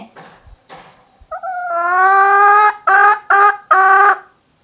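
A hen gives a drawn-out, strained call followed by three short, loud bursts of clucking, close by and with no talking.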